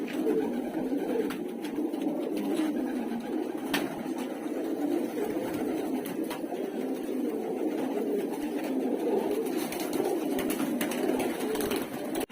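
Many pigeons coo together inside a pigeon shop, a dense continuous low burbling chorus with occasional flutters and sharper clicks, steady and fairly close throughout.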